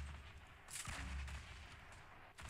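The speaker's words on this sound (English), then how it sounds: "He just threw a grenade, or is that you?" Grenade blasts in a Fortnite Battle Royale match on a minefield map, heard as a couple of booming explosion bursts over steady game ambience, with one sharp blast near the start and a longer rumble in the middle.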